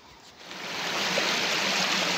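Water gushing from a village pipe without electric pumping, a steady broadband rushing hiss that swells over the first second and stays loud and close.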